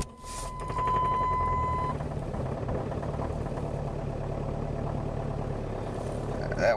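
A 2005 Jeep Liberty CRD diesel engine cold-starts at -8°F after the glow plugs heat, with a brief cranking tone and then a rough steady idle rumbling close up.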